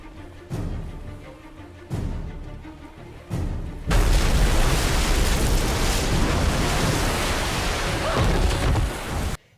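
A movie explosion from a low-budget shark film: a few heavy booms give way to a sustained roaring blast of broadband noise that fills several seconds before cutting off.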